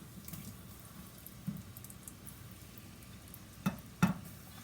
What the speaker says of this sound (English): throw in that and allow it to fry